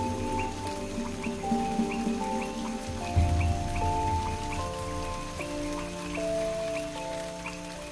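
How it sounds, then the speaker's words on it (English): Steady rain falling through the night in a jungle swamp, a continuous soft patter with scattered drops and a low rumble underneath, no voices. "The rain continued throughout the night."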